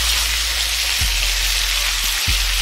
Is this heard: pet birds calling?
no